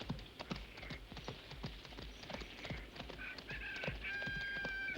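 Horses' hooves clip-clop at a steady walking pace, sharp knocks repeating nearby over faint background noise and scattered bird calls.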